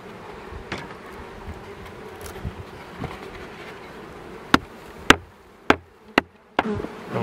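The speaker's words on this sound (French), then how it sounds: "On y va avec la ruche numéro 2." Honeybees hum continuously around an opened beehive during a hive-merging visit, a dense close buzz broken late by several sharp knocks from handling the frames.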